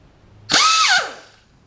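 A Central Pneumatic 95029 air die grinder spins up briefly, a loud high-pitched whine that sweeps in, holds for about half a second, then drops away as it winds down.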